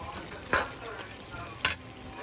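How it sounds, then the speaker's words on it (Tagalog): Vegetables and onions sauté in a hot pan for Filipino pork igado, a steady soft sizzle broken by two sharp utensil scrapes and clinks against the pan. "nilagay na natin ang vegetable at saka sibuyas, pinagsabay"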